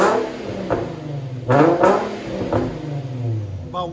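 Several short throttle blips from an Infiniti G35S fitted with a Flow FX true dual exhaust snap over a low idle rumble, each rev rising and falling back quickly and sounding close and moderately loud.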